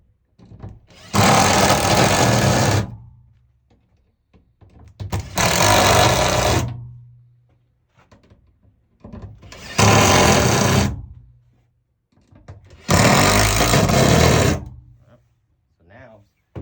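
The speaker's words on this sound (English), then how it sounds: "Drill it in, all of it." A power drill drives fasteners into the metal frame of a 2024 Promaster 2500 van: four loud whirring bursts of about two seconds each, separated by short quiet pauses.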